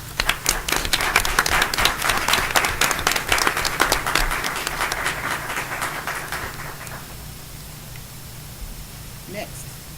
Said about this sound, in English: I would just like to give another round of applause